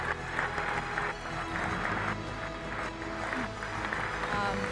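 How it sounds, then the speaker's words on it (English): An audience at a recovery celebration event claps steadily and continuously as people sit down, filling the room with sustained, fairly loud applause under a murmuring crowd. "we're clapping while you sit down for those 10 years"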